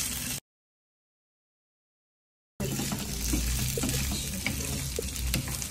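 Cumin and green chillies sizzle in a hot pan with a steady close hiss and some stirring. The sound cuts to silence for about two seconds near the start, then resumes.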